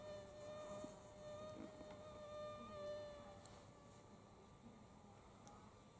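Thin, high whining buzz of mosquitoes with an occasional deeper fly drone drifting past, faint and distant in an otherwise quiet outdoor setting.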